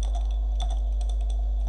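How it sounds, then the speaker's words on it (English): Rapid key clicks from typing code on a computer keyboard, steady and close, with a low constant hum underneath and no talking. "Just let me type it again because I have no multitasking whatsoever."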